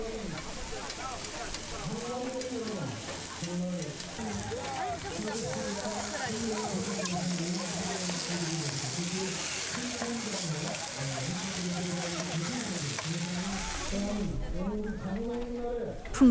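Pungcheon eels grill at a tasting event in Gochang with a steady, crackling sizzle that runs the whole time beneath a voice talking over it.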